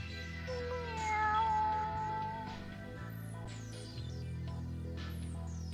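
A cat meow triggered by a chat command during a Sweet Fuse: At Your Side game stream: one drawn-out, wavering meow rises over steady background music, then fades as the music continues.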